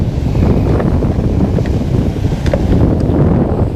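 Wind blowing across a lake, heavy steady rumbling gusts buffeting the microphone, loud and close with a faint watery wash underneath.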